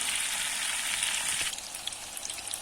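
Chicken breast köfte on skewers sizzling steadily in a frying pan, a dense close hiss that thins into scattered crackles and pops partway through, with no voices.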